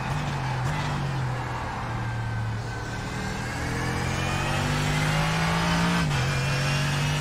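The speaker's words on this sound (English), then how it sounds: "Is that a GTE? Yeah. GTE behind me now, so I'll let him go." A GTE-class race car engine in an IMSA series racing game drones loudly and steadily close behind, its pitch dipping and rising with shifts as it closes in.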